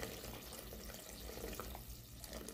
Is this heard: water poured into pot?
yes